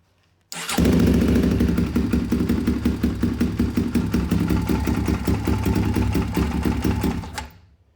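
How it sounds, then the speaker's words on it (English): A 2004 Polaris Predator 500 ATV engine fires up abruptly and runs at a loud, steady rapid idle with a fast even thump, close by, then cuts off near the end. "All right, so now it's time to start it up."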